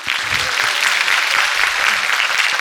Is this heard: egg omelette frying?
no